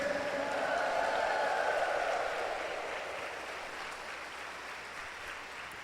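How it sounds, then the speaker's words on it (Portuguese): A church congregation at Sunday Mass applauds, a dense burst of clapping with some voices that gradually fades and thins toward the end. "Uma salva de palmas para ele."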